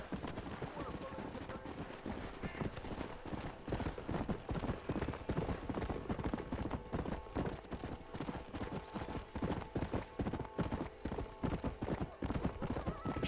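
Horses in the Red Dead Redemption video game clop along steadily with rhythmic hoofbeats, a brief whinny early on, moderately loud throughout with speech audible over the game sound.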